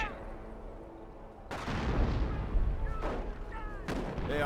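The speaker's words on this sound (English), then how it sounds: "Artillery is running on in." Artillery shells slam into a base in the World War II strategy game Company of Heroes, a loud blast erupting suddenly and rumbling on with further crackling impacts after a quieter stretch of battle noise.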